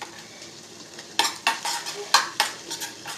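Spoon stirring goat brain fry in a frying pan with a soft sizzle, several distinct scraping strokes in an uneven rhythm, close and moderately loud with no talking.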